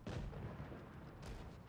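A tank cannon fires in the mobile game World of Tanks Blitz, one deep booming shot with a rumbling tail and a second thump about a second later, heard alone.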